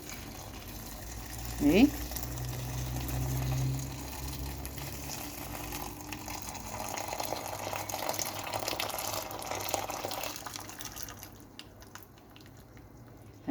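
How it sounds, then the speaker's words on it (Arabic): Hot water poured from above onto crushed fava beans for ful medames, a steady splashing, filling rush that swells through the middle and fades out, with a voice speaking briefly near the start. "هننزل عليه بالميه السخنه"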